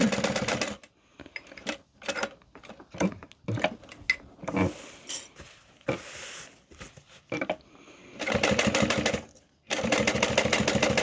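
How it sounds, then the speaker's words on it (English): A sewing machine top-stitches a pocket onto a bowler bag in short stop-start bursts of rapid clatter, with quiet gaps and handling noises between runs. "And then I just hold this down as I start my stitches. And I'm basically top stitching this on."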